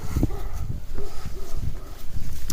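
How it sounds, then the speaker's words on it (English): Dog barking outdoors on a snowy farm with hay and livestock nearby, a few short barks and whimpers close to the microphone over steady wind noise. "What are you barking at,"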